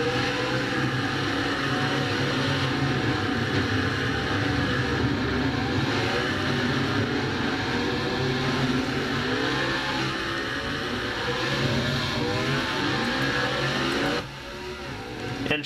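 A race car engine runs in a stock-car racing video game during the Food City 500, a dense, steady roar of revving engine noise for about fourteen seconds before dropping to a quieter level.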